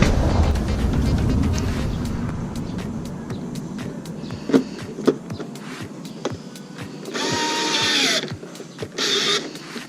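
Small screws being driven back into the top cover of a Honda Click 150i scooter, heard as a steady mechanical whirr with sharp clicks and taps throughout, then a brighter burst of tool noise near the end.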